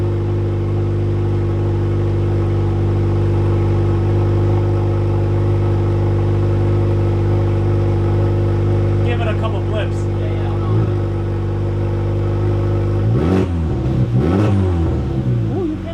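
A 2023 Honda Civic Type R FL5 fitted with an AWE Touring exhaust holds a loud, steady idle, then blips and revs in brief bursts, with people talking over it.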